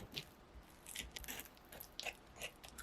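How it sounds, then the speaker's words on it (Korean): A ripe banana is mashed with a fork in a bowl, giving quiet, soft squishy presses and small scraping clicks that come in a few separate bursts, close and faint. "잘 익은 바나나는 그릇에 넣어 포크로 으깨주세요."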